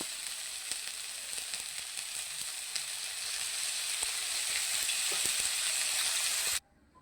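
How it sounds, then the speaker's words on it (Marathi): Curry leaves, garlic and coriander sizzle steadily in hot oil for a home-style chicken curry, a continuous bright frying hiss with faint crackles that stops abruptly near the end. "तर त्याच्यामध्ये कढीपत्ता, लसूण आणि थोडीशी कोथिंबीर. यामध्ये थोडेसे तेल टाकूया."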